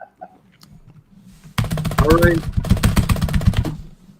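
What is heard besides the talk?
loud computer keyboard typing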